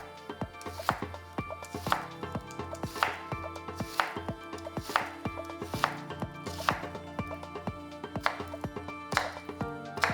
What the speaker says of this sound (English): The onion should be sliced small.